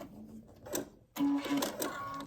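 A sewing machine stitches a quarter-inch seam on a quilt block, with a short whirring burst, a brief pause, then a louder, steadier run of stitching close by.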